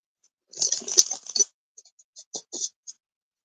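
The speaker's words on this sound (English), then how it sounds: "I'm shuffling the cards on my lap here." Tarot cards shuffled on a lap make soft, crisp riffling and flicking sounds, a quick cluster of papery snaps followed by a few separate light taps, close and quiet with no talking.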